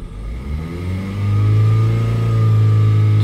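A Peugeot Partner diesel engine, close and loud, rises from a low rumble to a steady hold at about 3000 RPM, with a strong sustained drone and harmonics over the last half.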